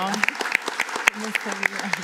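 Scattered applause at a Spanish-language cultural and educational talk, a few sharp separate claps over a murmur with some laughter and voices in the room, brief and moderately close.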